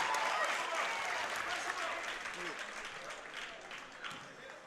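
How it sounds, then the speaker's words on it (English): A crowd at a boys' high school basketball prelim game applauds after a made free throw, with sustained, dense clapping that fades slightly over a few seconds as an announcer talks over it. "Crowd seems to be a little more into it now."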